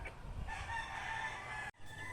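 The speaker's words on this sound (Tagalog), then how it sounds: "May tangkar ng manok po ako dito guys. So, ayan. May dalawang manok na ano, sa loob." A rooster crows loudly and steadily from one of two chickens kept in a backyard coop, with a low outdoor background rumble.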